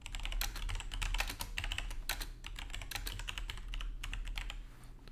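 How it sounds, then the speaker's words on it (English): Commands typed on a computer keyboard for a homelab monitoring server setup, a quick run of close, crisp key clicks with brief pauses between bursts, alone with no talking. "we can just type in PM2 save and PM2 startup"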